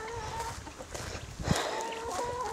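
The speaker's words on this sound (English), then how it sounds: "We got chickens, fuzzy ones, regular ones." Chickens on a home farm cluck steadily at close range, with several birds overlapping in a busy, continuous stream of calls and a brief louder burst partway through.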